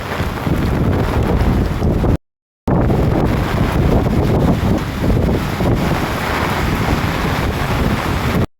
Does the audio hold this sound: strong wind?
yes